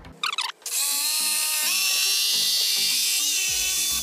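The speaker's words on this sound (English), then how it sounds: "Today I'm going to be showing you how to cut a perfect straight line using your jigsaw." Bosch jigsaw cutting a straight line through wood, a loud, close, sustained high buzzing whine after a brief rattling start, the pitch shifting slightly as the blade feeds through.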